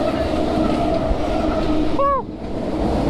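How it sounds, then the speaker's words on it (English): A train rumbles past directly overhead beside a creek, a steady loud roar of rail noise with a brief rising metallic squeal near the end before the rumble drops away. "There's a train over my head."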